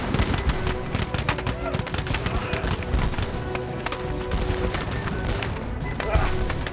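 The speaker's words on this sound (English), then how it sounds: "The Canadians fire a single devastating volley." Gunfire crackles through a driving snowstorm as a continuous burst of sharp, rapid shots and thuds, moderately loud and dense throughout, with no clear gaps.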